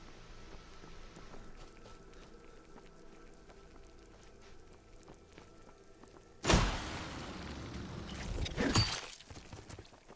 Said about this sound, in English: We are also getting rained on.